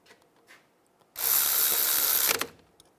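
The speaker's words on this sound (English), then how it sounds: "I'm going to use some pliers to hold the pins and tighten these down." Bolts being tightened on a 2004-2009 Toyota Prius wheel hub assembly, a close continuous ratcheting whir lasting about a second after a few faint clicks, with no one talking.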